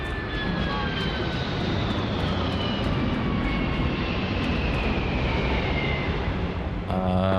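A spaceship lands nearby in the Starfield video game with a loud, continuous engine roar and slowly falling whines, and a brief change in the tone near the end.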